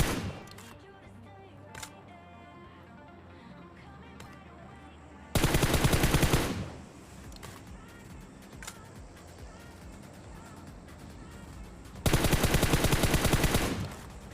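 Automatic gunfire in PUBG erupts in two loud, rapid bursts of about a second each, separated by several seconds of quieter game ambience with faint distant pops.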